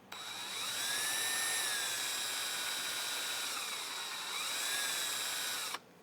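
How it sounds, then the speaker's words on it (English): A power drill with a 7/16-inch bit whines steadily as it bores a hole, its pitch dipping and rising under load for several seconds before cutting off abruptly. "Just go slow and steady with the 7/16 inch drill bit here and get a nice little hole started."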